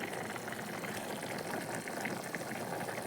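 Bean gravy (kuzhambu) of fresh field-bean seeds bubbling at a steady rolling boil in a pot, a dense continuous hiss and burble with no voices.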